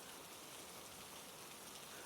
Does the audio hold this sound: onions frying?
no